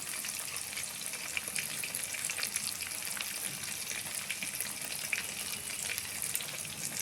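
Crushed cardamom, cinnamon and cloves sizzling in hot oil, a steady, soft, hissing crackle that continues evenly throughout without voices.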